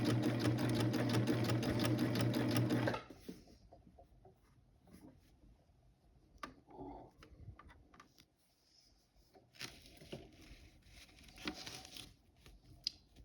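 A cover stitch sewing machine runs loudly and steadily for about three seconds while stitching the bottom hem of a white-on-white garment, then stops, leaving quiet handling clicks and small rustles.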